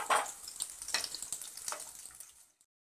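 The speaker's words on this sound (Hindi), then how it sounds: "छोले को गरम तेल में इस तरीके से हम तलेंगे।" Boiled chickpeas dropping into hot oil for deep-frying, a burst of loud crackling sizzle at first that settles into a steady frying hiss, then cuts off abruptly near the end; no voices.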